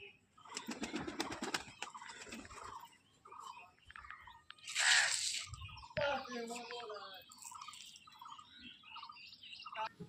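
Several short bird calls from a pigeon bought at a market, kept on a rooftop loft among other birds, with a brief flutter of wings midway, heard at close range.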